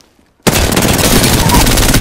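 Gunfire in the Apex Legends shooter game, a loud, sudden burst of rapid automatic fire that starts after a near-silent moment and continues without a break to the end.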